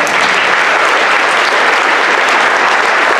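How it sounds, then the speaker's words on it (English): Loud, steady applause from a school audience at a 5th–8th grade winter band concert, a dense wash of many hands clapping continuously with no gaps. "Please give another round of applause."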